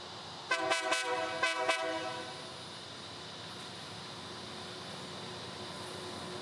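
A CSX-contracted rail grinder train blows a few short, loud horn blasts, then settles into a low steady rumble as it crawls into a siding.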